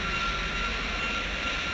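Steady, loud roar of an F-14 Tomcat jet engine in the Ace Combat flight game, a continuous broadband rush with a thin high whine, holding level throughout with no talk.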